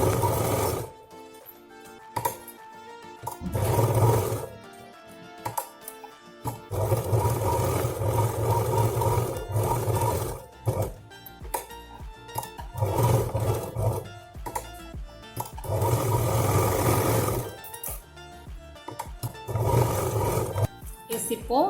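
A sewing machine stitches a ladies' fabric handbag in repeated bursts of close, whirring runs with short pauses between, while someone talks over it.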